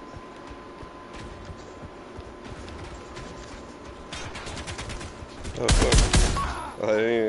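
Rapid bursts of gunfire from an online shooter match in Avatar: Frontiers of Pandora rattle in the background, rising to a loud close volley near the end as a player swears briefly.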